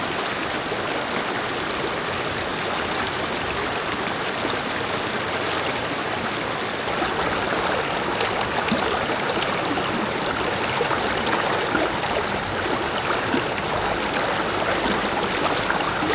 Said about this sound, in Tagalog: Nasa likod natin yung ilog. Ayan. Maganda yung daloy ng tubig.